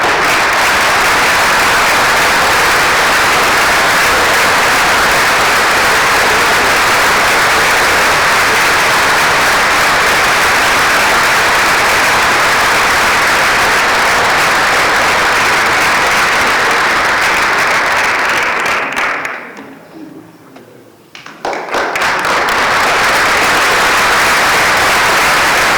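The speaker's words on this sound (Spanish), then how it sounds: "damos también un fuerte aplauso para él." Loud, dense applause from an audience at a tribute event honoring trade unionism, sustained for about twenty seconds, then briefly dropping away and swelling again.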